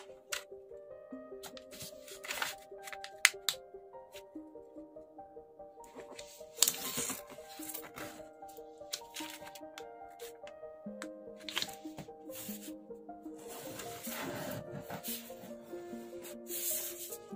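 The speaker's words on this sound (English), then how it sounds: "fold side to side. Unfold, fold the other side to side." Origami paper is folded and unfolded in quiet, close crinkling rubs and soft creasing swipes, in scattered bursts under soft background music.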